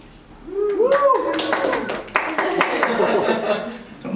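A comedy club audience at the Velour bursts into clapping with a few whooping cheers, close and lively, while a voice talks over it.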